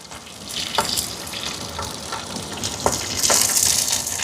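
Green chillies, shallots and curry leaves sautéing in oil in a clay pot over a wood stove, a steady close sizzle broken by a few sharp scraping stirs.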